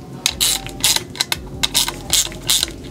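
Close ratchet clicking in quick bursts as cam cap bolts are tightened on an RB26 cylinder head during an engine build, several short runs of pawl clicks separated by brief pauses.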